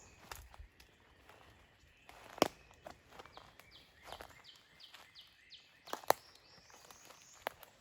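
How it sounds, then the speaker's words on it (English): Repeated northern cardinal song phrases ring out in the upper register amid sparse footsteps and rustling outdoors in a Midwest woodland, fairly quiet and moderately distant. "That's cardinal."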